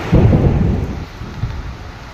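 Heavy rain pours down with a loud rumble of thunder at the start that fades into a steady, dense wash of rainfall close by.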